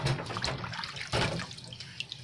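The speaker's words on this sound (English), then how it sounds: "I'm just gonna rinse this case out" Running water splashes and rinses over a plastic Amiga 2000 computer case being cleaned, a close, continuous tap-like gush with small shifting splashes.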